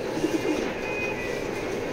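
Racing pigeons in a loft give a few soft, low coos close by at the start. A faint steady background hum fills the rest.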